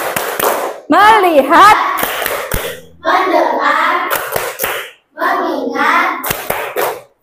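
Indonesian schoolchildren perform a rhythmic 'tepuk fokus' clapping routine in class, sharp hand claps in short patterned bursts alternating with the children chanting words in unison, loud and close.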